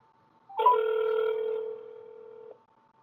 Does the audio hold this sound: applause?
no